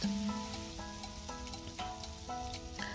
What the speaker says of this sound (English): I'll be adding some palm oil and now my garlic, ginger and spring onion paste with some onions, and I'm going to fry that out